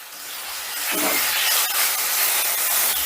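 Chopped tomatoes, two medium ones, hitting a hot pan with ginger and garlic, giving a steady broadband sizzle that swells after about a second and holds loud and close to the end.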